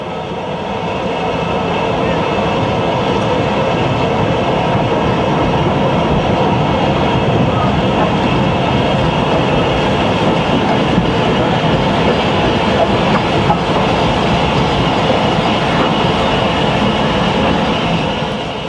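A steam train hauled by 8F locomotive number 48773 on a Kidderminster to Bridgnorth service rolls steadily past at close range, a loud continuous rumble with faint rhythmic clatter of wheels lasting the whole stretch.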